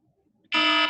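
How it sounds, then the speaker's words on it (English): An electronic alarm set as a call reminder bursts on abruptly after near silence, a loud steady buzzing tone that holds without a break. "That's my alarm to get on this call."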